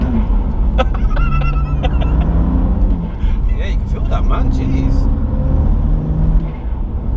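Engine of a BMW M2 Competition fitted with an Eventuri intake, heard from inside the cabin while driving: a steady deep rumble with rising and falling revs under an ongoing conversation between people in the car.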